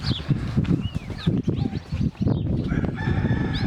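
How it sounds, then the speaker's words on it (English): A hen with chicks roosts beneath a tree near a palapa and barbecue, giving close clucks and calls over busy overlapping bird chatter and cries. "Here's another chicken that ended up roosting here underneath this tree"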